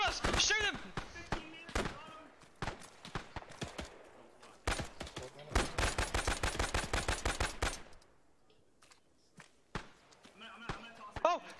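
Gunfire rattles through a military video game: scattered single shots, then a sustained fast automatic burst, then more sporadic cracks, with voices calling out in between.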